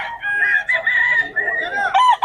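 A gamefowl rooster crows loudly and close at a farm, a strained wavering call broken into several bursts, with clucking mixed in.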